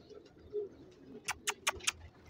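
Kala Gandedar pigeons give a faint, low coo, followed by four quick, sharp bursts in an even rhythm, close and fairly quiet.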